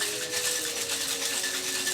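A cocktail of dark Jamaican rum and pebble ice is whip-shaken in a shaker, producing a close, fast, continuous rattle of ice for a couple of seconds with no talking.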